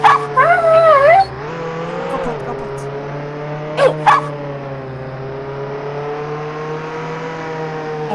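High, wavering whimpering whines from a dog in a video game in the first second or so, over a steady engine drone that continues throughout, with a brief sharp sound later.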